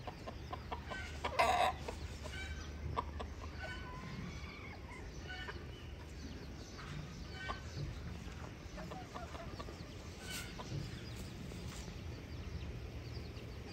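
Hens cluck intermittently in a village yard with chicks nearby, a sharp squawking burst early on and scattered softer clucks over faint background ambience.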